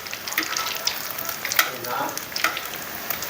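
Pangas (basa) fish cutlets fry slowly in oil over a low gas flame, giving a steady close sizzle with scattered crackles and pops, with no talking.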